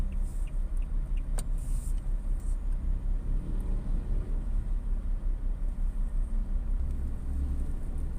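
Slow road traffic rumbles in a traffic jam near the Phra Pradaeng intersection, a low, steady drone of idling and creeping cars with a few faint clicks.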